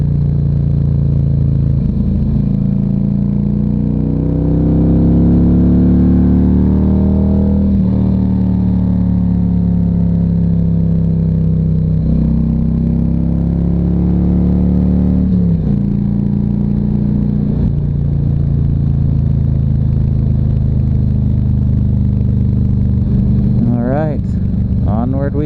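Motorcycle ride with a passenger on the back, the engine droning loud and continuous with rising and falling pitch as it accelerates out of corners and shifts gears, wind noise throughout and a rider speaking over it.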